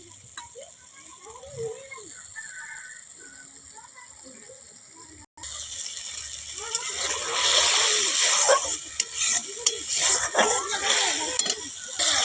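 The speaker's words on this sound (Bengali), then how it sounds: "মশলাটা কিন্তু একদম কষানো হয়ে এসছে আর একটু কষাবো" Mustard masala for katla fish curry being stir-fried in a pan: after a quiet start, a dense, close sizzle with bursts of stirring and spluttering runs under a voice.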